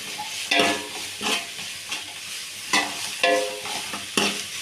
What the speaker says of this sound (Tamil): அந்த உருளைக்கிழங்கை போட்டு நல்லா கிண்டிக்கலாம்